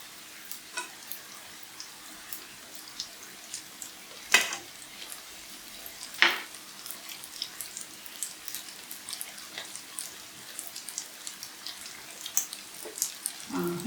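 Vegetable cutlets fry in oil in a pan with a low, steady sizzle and scattered small pops, plus a couple of louder clinks partway through; no one speaks.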